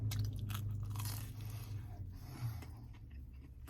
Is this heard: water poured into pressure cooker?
no